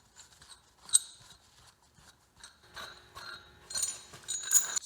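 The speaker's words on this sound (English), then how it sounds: "the longer threads allow the nut to go up the rod faster" A nut spun by hand up a long-thread quick bolt rod, as used by ironworkers, makes faint metallic whirring and light ratcheting clicks that come in short spurts and grow busier toward the end, close and otherwise quiet.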